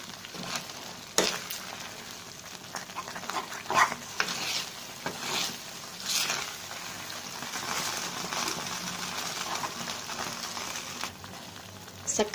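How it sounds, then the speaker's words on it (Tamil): Cashews and raisins being stirred into sweet pongal, giving a soft, steady scraping and mixing texture with light sizzle and occasional clinks of the spoon, close and continuous, with no talking. "அதோட சேர்த்து மிக்ஸ் பண்ணி விட்டுறலாம்."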